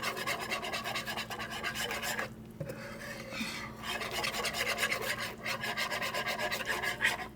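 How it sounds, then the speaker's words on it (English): A whisk beats clear gel powder into buffalo sauce for canned turkey wings, making fast, steady scraping strokes against the pot, close and continuous, with one brief pause midway. "So you just keep whisking that in. And it thickens as you go."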